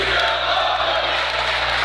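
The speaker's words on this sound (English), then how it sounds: "Crowd breaking out the "We Still Love You" chant." Basketball crowd at a varsity semifinal high school game chanting together, a dense, loud, sustained wall of massed voices filling the gym without a break.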